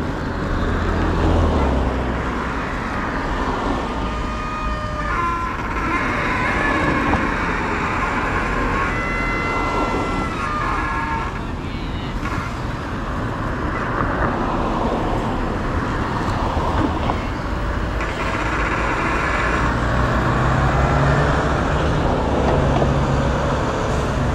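Steady road traffic rumbles around an evening ride near Upper Seletar Reservoir in Singapore, a constant low roar of passing vehicles mixed with wind buffeting the microphone.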